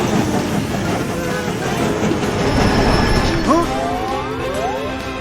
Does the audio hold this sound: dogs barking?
no